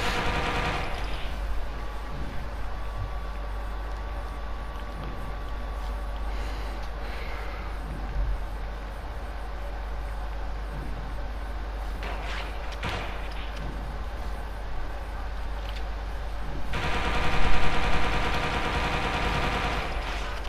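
Sustained AK assault rifle fire in the open-world game Watch Dogs 2, a dense continuous rattle of shots over a constant low rumble, loud and close, with a swell of heavier impacts near the end.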